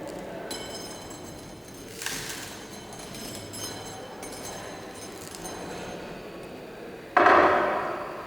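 A metal tamping rod is rolled across sand in a cylinder to level the top surface during a bulk density test, giving a continuous gritty scraping with a few metallic clinks and a louder rough burst near the end.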